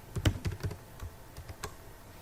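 Python code typed on a computer keyboard: a quiet, close run of irregular key clicks, bunched in a quick burst and then scattered single taps, with no speech.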